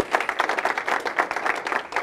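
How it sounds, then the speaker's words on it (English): An audience at a student town hall in a high school claps in a brisk, continuous round of applause, dense and fairly close. "Give yourselves a round of applause."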